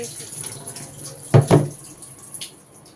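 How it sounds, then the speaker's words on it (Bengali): Chopped potatoes being rinsed under a kitchen tap, heard as a couple of short, close splashing bursts of running water over an otherwise quiet background. "আলুগুলাকে যে কুচি করে নিছি এখন ধুয়ে ধুয়ে আমি একটু"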